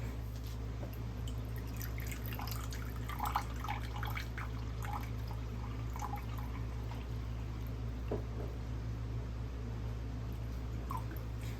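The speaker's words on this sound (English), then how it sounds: "So we're going to do 1/4 cup of water in this one." Water pours and drips into cake batter in a mixing bowl, a faint, intermittent splashing and trickling over a steady low hum, with no talking.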